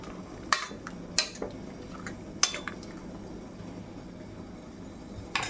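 A ladle stirs pressure-cooked chickpeas for kadala curry in a metal pot, giving a few scattered clinks and scrapes against the rim with soft wet shuffling between them, close and moderately quiet.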